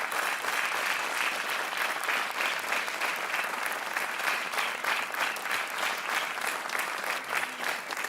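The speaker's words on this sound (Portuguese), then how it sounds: "Um aplauso para o António e para o Rodrigo." Studio audience on a television quiz show applauds the contestants, a dense, even wash of clapping holding steady for several seconds.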